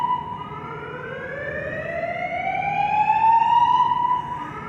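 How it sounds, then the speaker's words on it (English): Building alarm in Las Vegas, heard from a parked camper van, sounds as one loud wailing tone that climbs steadily in pitch for about four seconds before dropping off. "An alarm has been reported in the building."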